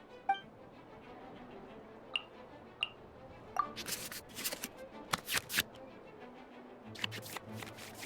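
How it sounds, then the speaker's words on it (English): Quick riffling bursts of card shuffling in the Genius Invocation TCG video game, several crisp flutters in a row between soft clicks, with a low game music bed humming underneath. "we can select any number of cards in our hand to shuffle back into the draw pile"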